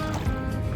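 Churning, sloshing water as someone wades across a small pond partway through a run, a close, steady splashing wash with no pauses.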